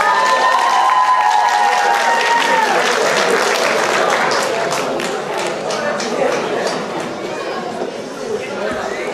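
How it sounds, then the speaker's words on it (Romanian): Applause and cheering from a crowd at a freshmen's ball fill the room, loud at first and tapering slightly, with chatter mixed in and a brief tonal sound near the start. "Aplauze pentru bobocii noștri."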